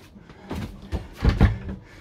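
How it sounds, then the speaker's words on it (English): A door swings shut inside a Le Voyageur 7.2 GJF luxury French motorhome, giving a couple of close, soft knocks and a latch click with light handling noise around them. "Here we can close the door,"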